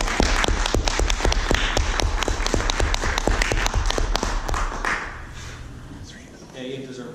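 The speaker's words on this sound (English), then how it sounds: "you deserve that applause" An audience applauding at a Toastmasters club meeting, a dense run of claps close by that thins out and fades after about five seconds, with a voice starting to speak near the end.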